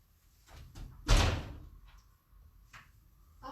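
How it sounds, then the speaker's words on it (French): A home door opened to let a cat in from outside: a single loud, close thud near the middle, with a few softer knocks and clicks before and after in a quiet room. "je vais commencer à ouvrir la porte pour que mon chat puisse entrer"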